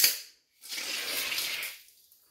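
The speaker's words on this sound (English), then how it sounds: "we're just going to top it off with a little sparkling water" Sparkling water poured into a mixed non-alcoholic drink makes a short fizzing, splashing gush lasting about a second, close and fairly quiet after a brief click.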